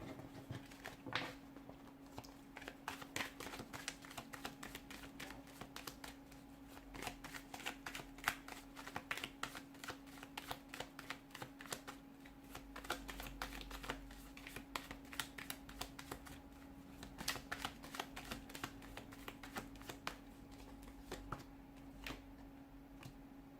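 A tarot deck is shuffled steadily and closely for a long stretch, rapid papery riffles and taps in a continuous patter over a low steady hum.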